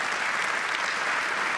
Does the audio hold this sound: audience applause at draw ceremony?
yes